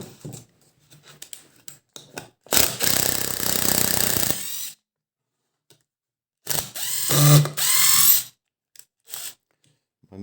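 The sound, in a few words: unscrewing OSB board with a ratchet tool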